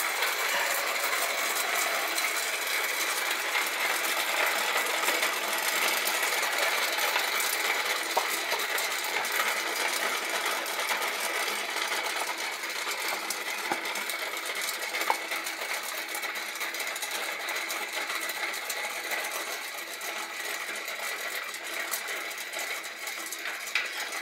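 A Shimano FH-M475 bicycle hub with no grease spins freely in its wheel, giving a faint, steady mechanical whir with light ticking, continuous and close.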